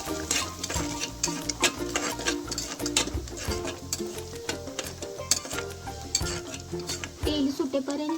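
Onion and tomato puree roasts in oil for paneer tikka masala, sputtering and sizzling up close while a spoon scrapes and clinks against the pan in an uneven rhythm.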